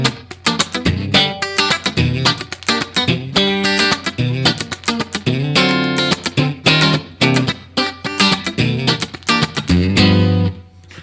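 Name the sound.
electric guitar with drier slapback reverb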